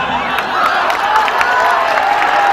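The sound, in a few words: applause honouring the Jhijhiya group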